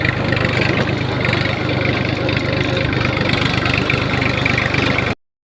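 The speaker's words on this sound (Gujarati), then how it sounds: "હવે હું હાકીશ ટ્રેક્ટર" A tractor engine runs close by in a steady, loud, low throbbing idle with an even mechanical chug, cutting off sharply just before the end.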